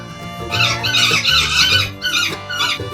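A golden pheasant in a zoo enclosure gives a series of loud, squeaky, whistling calls in short bursts, close by, with no talking.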